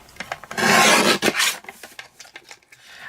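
Blade or craft knife cutting a half-inch strip of balmy blue cardstock, a loud rasping scrape lasting under a second followed by softer scratchy rubs and small clicks, close up with no talking.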